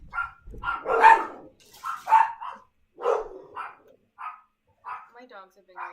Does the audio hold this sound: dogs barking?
yes